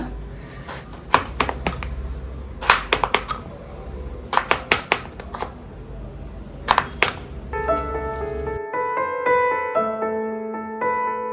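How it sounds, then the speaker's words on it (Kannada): A knife slicing raw mango into strips on a board, several quick clusters of sharp close chopping taps with pauses between, then the cutting stops and music takes over. "ಈ ರೀತಿಯಲ್ಲಿ ಕಟ್ ಮಾಡಿದ್ರೆ ಆಯಿತು"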